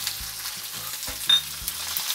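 Spring onion frying in hot oil with cumin seeds, giving a steady close hiss and sizzle with a few soft stirring knocks and no voices.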